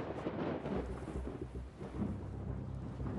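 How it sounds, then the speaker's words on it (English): Deep thunder from a big storm rolling in at sea rumbles low and continuous, mixed with the hiss of rain, with no voices. "Weather change, big storm coming."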